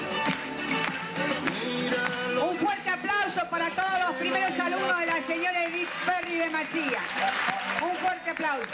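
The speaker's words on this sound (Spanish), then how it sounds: "Un fuerte aplauso." An audience breaks into sustained applause, dense clapping that runs throughout while music plays over it and people talk.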